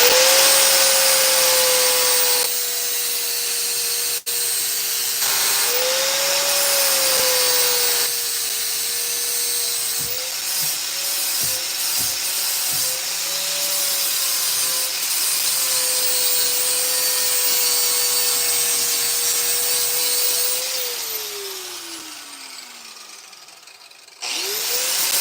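A power grinder eats into old steel files and rasps being shaped into blades, a loud sustained whine whose pitch rises and dips as pressure changes, with a few brief interruptions before it winds down.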